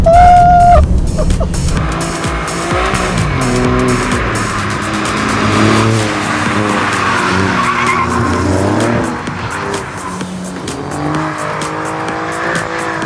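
An Alfa Romeo Giulia turbo is driven hard around the Jyllandsringen race track in the rain, its engine note rising and falling through gear changes with tire squeal, loud and close throughout.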